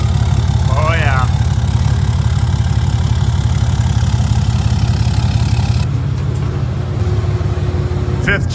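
A 5th gen Cummins 6.7 diesel truck engine, deleted, idles with a loud, steady low clatter, a brief chirp early on, and a slight drop in tone near the end.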